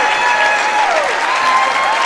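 Gym crowd at a junior varsity high school basketball game clapping steadily as the game ends, a dense continuous patter of applause with a faint whistle-like tone above it.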